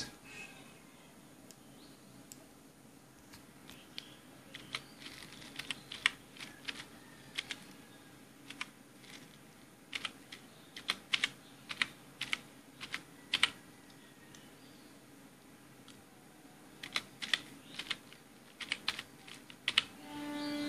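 Someone types a name and address on a computer keyboard in quick, irregular bursts of crisp key clicks, close and moderately loud over a faint steady room hum, with no one talking.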